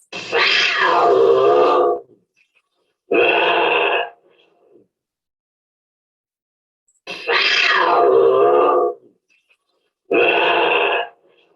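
Bobcat growls and snarls in pairs: a long rough growl followed by a shorter one, repeated twice with pauses between, loud and close.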